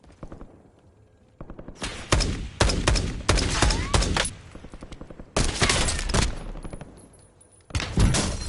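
Rapid bursts of video game shooter gunfire ring out in loud clusters, dense automatic volleys separated by brief lulls, close and sustained across the whole stretch.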